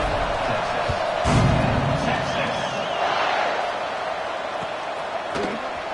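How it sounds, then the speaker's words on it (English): A stadium crowd in the NCAA 26 college football video game keeps up a steady broad roar, swelling briefly with a few thuds under commentary-like speech, dense and continuous throughout. "this crowd is buzzing after that last score."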